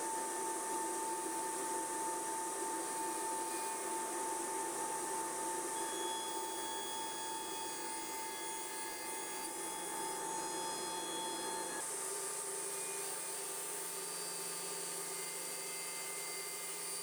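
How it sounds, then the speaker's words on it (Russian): Power saw cutting fireplace portal side panels at a 14-degree angle, a steady, loud whirring drone with tonal whine running throughout, shifting in tone near the end. "На те же 14 градусов подрезаем и боковые панели."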